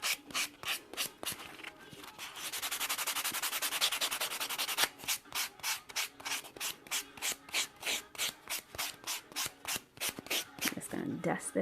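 An electric nail file with a fine bit grinds over dip-powder acrylic nails in close, rhythmic bursts of rubbing and sanding, with one longer continuous pass midway before the short strokes resume.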